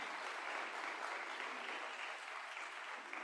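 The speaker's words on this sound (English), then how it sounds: "Round of applause." Steady, dense applause from an audience at a ranching conference, an even wash of clapping with no breaks throughout.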